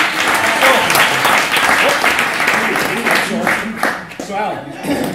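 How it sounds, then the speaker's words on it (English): Audience applause and clapping for a volunteer named Alan at a live play performance, a dense, steady round lasting the whole stretch with some chuckles and crowd murmur mixed in, thinning slightly toward the end. "Round of applause for Alan."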